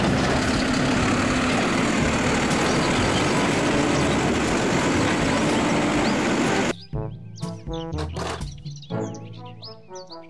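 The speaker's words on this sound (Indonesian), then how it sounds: "Mobil, truk, sampah." Dense, loud engine noise of a toy garbage truck rumbles steadily, then stops abruptly and gives way to a short musical jingle.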